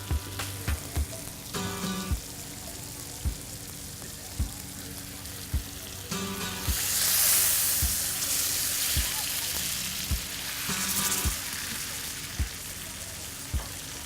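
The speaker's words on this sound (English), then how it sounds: "Now once this is done searing, we're gonna go transfer it right to the grill." Pork loin coated in a dry rub sears in a hot pan with a steady, crackling sizzle that swells and fades, punctuated by regular, sharp ticking pops throughout.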